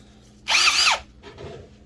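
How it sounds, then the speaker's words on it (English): A power drill whirs up in a short burst of about half a second, winding down, followed by a fainter brief rev. "I've got the other drill"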